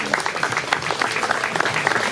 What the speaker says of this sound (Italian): Allora è arrivato il nostro sindaco, un bel applauso